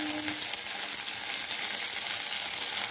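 A paneer pizza filling fries in hot oil in a pan, giving a steady, loud, close sizzle that runs without a break as it is stirred.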